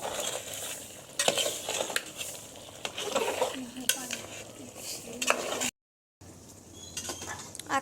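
Meat for tehari stirred and sizzling in a pot, with scraping utensil strokes and clinks over a steady frying hiss, close and fairly loud, broken by a brief gap.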